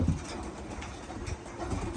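Racing pigeons readied for a 350-mile final race coo softly in a loft, low murmuring calls under steady background hiss and rumble.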